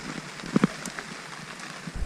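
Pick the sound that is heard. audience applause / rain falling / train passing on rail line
rain falling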